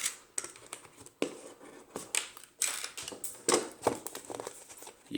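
Scissors snip through the plastic packaging of a Tile Mate Bluetooth tracker, with crisp cuts and crinkling plastic in irregular bursts, close and fairly quiet, and no one talking.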